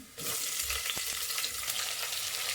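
Garlic, green chilli pieces and onion fry in a pan with a steady, close hiss that jumps up at the start and holds loud throughout, broken by a few short stirring scrapes. Nobody speaks.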